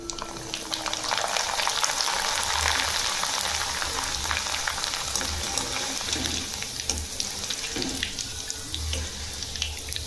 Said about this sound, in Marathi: चला तर आपण मका पोहे तळून घेऊ आधी.